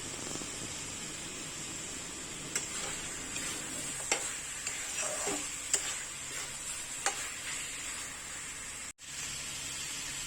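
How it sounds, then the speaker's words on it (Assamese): Marinated chicken for a chicken korma fries over a low flame, giving a steady soft sizzle with occasional faint stirring ticks and clicks, heard alone without talk. "ভাজি আছে ল' ফ্লেমত"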